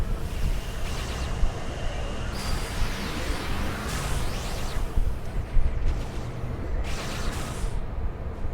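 A wind power attack in the City of Heroes video game roars as a continuous gusty whoosh, swelling and fading in several surges over steady background noise.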